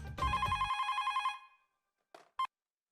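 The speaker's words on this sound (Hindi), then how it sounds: "अब मैं भी सारिस मामा का फोन लगाता हूँ" Single burst of a telephone ringback tone, a pulsing electronic trill lasting about a second, followed by two faint clicks on the line.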